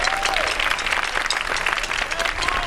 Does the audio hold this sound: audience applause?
yes